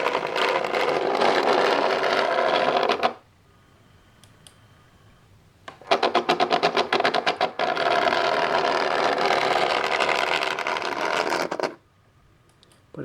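A Trix class 124 Inter City model train motor runs in jerky spells, a buzzing whir with rapid clicking that cuts out into near silence and then starts again, twice.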